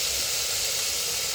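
Bell pepper dropped into a hot pan gives a steady, loud hiss of sizzling that runs unbroken and close throughout, with no talking.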